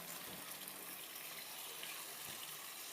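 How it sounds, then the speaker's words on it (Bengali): Hot water poured from a pot heated on the stove into a bowl of spices for a kosha chicken curry, a steady broad splashing gush that runs close and unbroken for about three seconds with no talking. "এবার আমি পাশের ওভেনে আমি একটু গরম জল বসিয়ে রেখেছিলাম, ওই মশলার বাটিটার ভেতরেই দিয়ে দিচ্ছি।"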